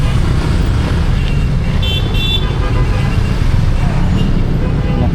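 Busy roadway traffic near a fireworks market in Binakayan, Kawit, with a steady dense rumble of cars and brief horn toots, continuous and fairly loud, with faint voices mixed in.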